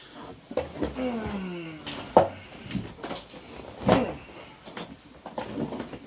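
Indoors, a cupboard or door opens and shuts with a few sharp knocks and creaks, mixed with a person talking nearby.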